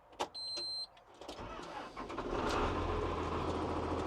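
A tractor engine cranks and catches, rising into a steady low rumbling idle that grows louder and holds, with a brief whine and clicks before it starts; no talking.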